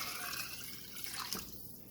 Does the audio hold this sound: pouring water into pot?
yes